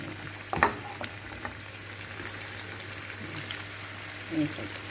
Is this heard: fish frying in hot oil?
yes